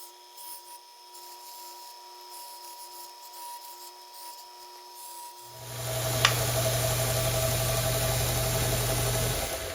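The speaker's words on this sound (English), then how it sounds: "Now I'm going to take it over the sander and round it." A belt sander rounding the milled corners of a connecting rod for a six-cycle engine kicks on partway through, a loud steady grinding hum with a brief scrape, after a quieter stretch of workshop noise.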